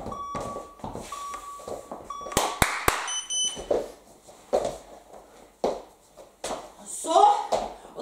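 Electronic beeps from a workout interval timer during a home burpee exercise challenge, a few sharp tones in quick succession amid a person talking and moving around.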